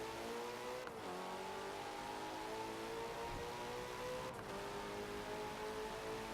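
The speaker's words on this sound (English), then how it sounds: "161 mile an hour, and I've picked the Ferrari California T" A Ferrari California T engine in the Forza Motorsport 7 racing game drones steadily at high speed, its pitch shifting a little with two brief dips, close and continuous with no talk.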